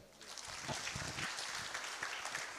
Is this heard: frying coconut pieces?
no